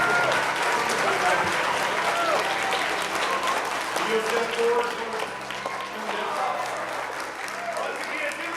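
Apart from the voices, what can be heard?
audience applause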